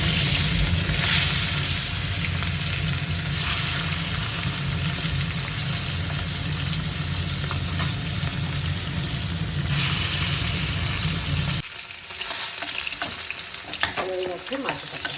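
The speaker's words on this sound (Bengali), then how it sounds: "চিমনিটা দিয়ে নিই, না হলে এখনই বোম ফাটবে।" A kitchen chimney exhaust hood runs with a steady broadband whoosh and low hum while fish fries in a pan, then cuts off abruptly near the end, leaving quieter clatter and sizzle.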